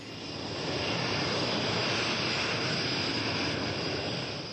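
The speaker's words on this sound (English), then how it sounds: "even though the Jaguar is flying very low and very fast" A SEPECAT Jaguar jet flies very low and fast, producing a loud, steady broadband engine roar that swells slightly and holds throughout, with no voices.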